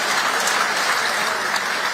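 Loud, close applause from a summit audience for the host, Governor Oluseyi Makinde of Oyo State, a dense, unbroken roar of clapping filling two seconds.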